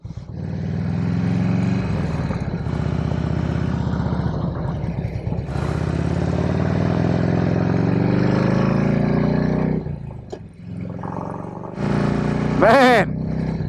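A motorcycle engine drones steadily while riding, with wind noise and a voice talking over it, the pitch shifting as the bike changes speed.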